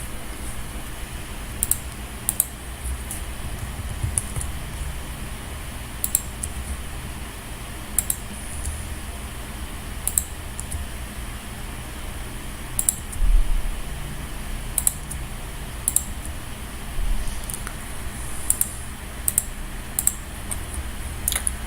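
Typing on a computer keyboard throughout a desktop editing session, with steady irregular clusters of sharp key clicks and occasional louder taps over a low constant hum, with no voices.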